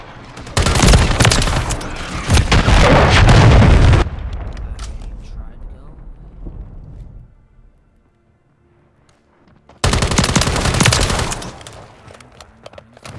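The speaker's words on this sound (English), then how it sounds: "Hostiles launched a cruise missile." Loud bursts of rapid gunfire and explosions rattle in a Call of Duty Modern Warfare 3 multiplayer match, with a cruise missile strike, then the din drops to quiet before another heavy burst, with voices in the mix.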